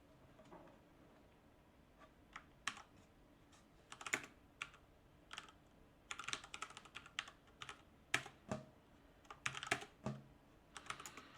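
Quiet clicking from a computer keyboard, with short bursts of keystrokes and brief pauses as a command is typed and the tab key is pressed for completion, with no one talking.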